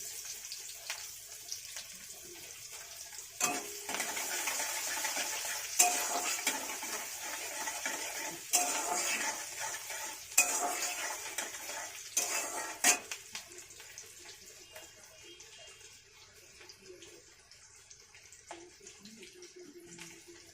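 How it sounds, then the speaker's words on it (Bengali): Chopped onion dropped into hot oil in a home kitchen, a bright continuous sizzle close by that swells then gradually settles, punctuated by sharp clinks of a utensil against the pan, with no talk. "এবার আমি পেঁয়াজ কুচো দেব, পেঁয়াজ কুচোনোটা দিলাম।"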